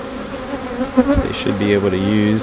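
Honey bees buzz around an overwintered backyard hive with a humming drone, close and clearly audible as someone speaks over them.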